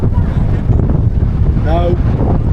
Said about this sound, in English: This proper headwind now.